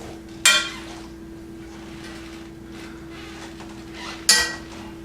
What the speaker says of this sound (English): And I'm going to toss these vegetables a little bit.